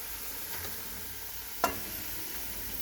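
Meat for aloo gosht goes into hot oil in a pot and sets off a quiet, steady sizzle close by, with one sharp clatter partway through and a softer knock at the end.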